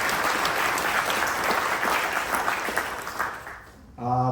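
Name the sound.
audience applause for speakers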